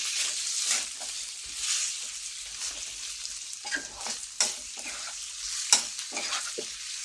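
A metal spatula scrapes and clatters against a hot wok while stir-frying Thai Korat-style noodles, in steady stirring strokes over a constant sizzle of frying food.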